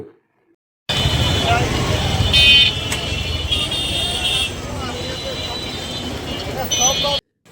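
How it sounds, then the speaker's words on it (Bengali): Street traffic jam of battery-powered easy bikes in Dinajpur city, a dense steady roadway din with engine hum, rattles and a few short horn toots throughout, fairly close. "ব্যাটারি চালিত ইজি বাইকের যানজটের নিত্যদিনের সঙ্গী এখন দিনাজপুর নগরবাসী"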